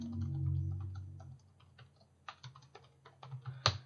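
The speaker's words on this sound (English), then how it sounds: "typing up a quick program" Computer keyboard keys click in quick, irregular bursts, close and fairly quiet, with a low hum fading out early and a sharper clack at the end.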